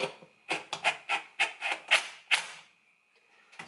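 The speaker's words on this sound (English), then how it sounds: "impact, cordless impact, socket, driver adapter, 3/8 drive" A cordless impact driver with a 3/8-drive socket adapter hammers a fastener tight in a rapid series of about nine sharp, close rattling bursts, ending in a faint whir.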